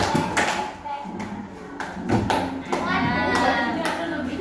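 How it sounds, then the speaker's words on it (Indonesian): A class of children claps on a teacher's spoken command, a single clap and then a double clap, repeated in a classroom while the teacher's voice and children's voices carry over it. "Semuanya tepuk satu. Tepuk satu. Tepuk dua. Tepuk dua."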